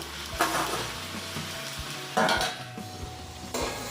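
Chicken and large whole potatoes are stirred in a sizzling pan, cooked without oil. Utensil scrapes and clatters come in bursts over a constant frying hiss, heard close with no speech.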